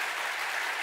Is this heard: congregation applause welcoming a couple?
yes